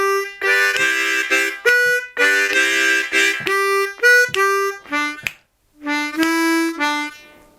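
Blues harmonica comping with chugging chords, played as loud, close, rhythmic bursts of reedy chords in short phrases, with one brief gap before the chugging resumes.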